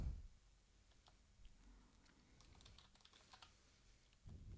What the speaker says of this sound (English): You can type in a policy number here.